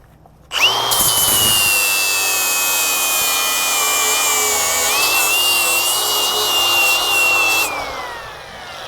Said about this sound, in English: I'm using this flapper disc. Seems to work pretty okay.